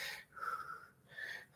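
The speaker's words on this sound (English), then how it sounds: "let my breathing calm down just a second before I get in this next set" Heavy, wheezing breaths after a set of shoulder and arm weight training, two long drawn exhales close to the mic with a short pause between, no talking.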